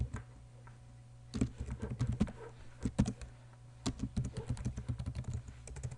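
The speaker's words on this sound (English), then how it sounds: "If I could type." Typing on a computer keyboard, with quick bursts of close, clicky keystrokes in an uneven rhythm after a brief quiet start.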